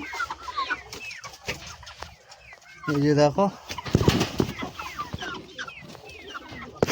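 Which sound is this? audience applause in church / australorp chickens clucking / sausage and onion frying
australorp chickens clucking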